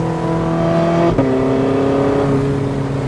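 A Porsche 918 Spyder engine roars at full throttle from a standstill, pitch climbing, then dips briefly at a gear change before pulling hard again; loud and close, no talking.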